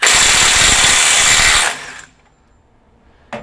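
Milwaukee 2953 Gen 4 M18 FUEL impact driver hammering a bolt free, a loud, close, rapid rattling burst lasting under two seconds that cuts off abruptly, followed by near silence and a brief knock at the end.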